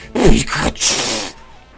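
A short, bright vocal cry, someone imitating Pikachu's squeal from Pokemon Yellow in two quick bursts, then fading off.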